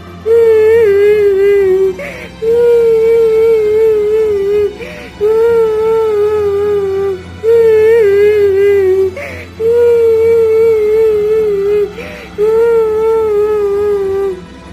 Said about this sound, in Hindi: अरे, ये किसके रोने की आवाज है?